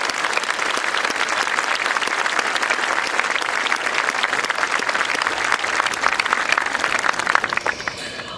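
A 2023 graduation ceremony crowd gives a sustained round of applause for outstanding educators. Thick, continuous clapping fills the hall at a steady, loud level for about eight seconds before starting to thin at the very end.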